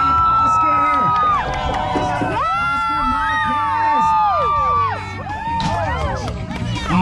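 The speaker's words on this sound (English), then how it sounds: "The energy from the crowd is really helping the riders" Crowd cheering stunt bike riders at a county fair, loud shouts and whoops from many people close by, rising and falling in bursts beneath an announcer talking over a PA.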